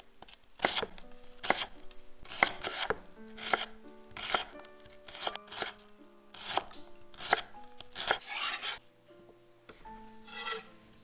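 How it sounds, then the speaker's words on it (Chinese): Shallots sliced with a knife on a cutting board for tom yum goong, a series of crisp chopping strokes in uneven bursts, close and clear with no talk. "红葱切片"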